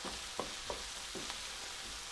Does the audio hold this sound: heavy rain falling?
no